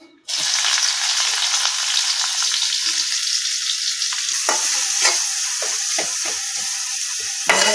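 Onion drops into a hot pan and bursts into a loud, sustained sizzle that hisses on steadily, with occasional stirring scrapes toward the end and no speech.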